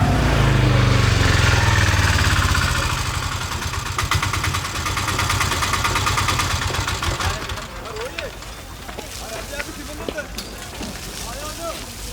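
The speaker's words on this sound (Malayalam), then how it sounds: "ഓട്ടോറിക്ഷയുടെ ശബ്ദം കേട്ടപ്പോൾ എനിക്ക് കയറി വിളിച്ചതാ" An autorickshaw engine runs loudly with a steady mid-range drone and rattle that fades a little toward the end, with voices talking over it.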